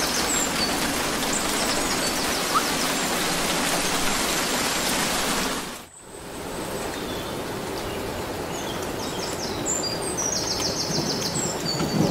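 Steady rain falls inside a rain globe in the video game Inside Out, a dense hiss of drops that briefly cuts out midway before resuming, with faint bird chirps over it.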